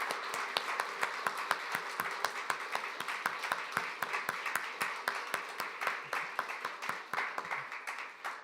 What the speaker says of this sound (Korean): 이 감사의 마음과 존경의 마음을 담아서 우리 큰 박수로 감사의 박수를 보내드리겠습니다.